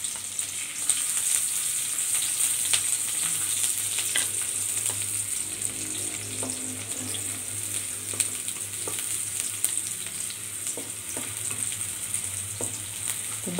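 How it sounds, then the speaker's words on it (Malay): Onions, shallots and garlic sautéing in a pan for martabak mie telor, a steady close sizzle with scattered pops and occasional spatula clicks throughout, no speech. "Sekarang saya tumis dulu bawang bombay."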